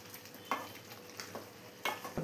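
Chicken curry being stirred in a pot after the chicken has released its water, giving a few scattered scraping clacks over a faint, steady background with no voices.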